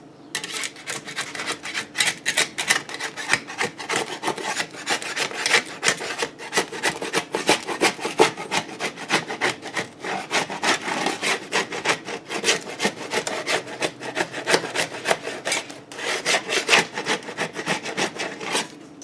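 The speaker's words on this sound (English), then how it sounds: "So I'm going to run a spatula under here. Kind of make sure it's nice and loose." A spatula scrapes steadily beneath a freshly baked homemade pizza, a continuous rough rasping and rubbing that runs close and loud for the whole stretch without speech.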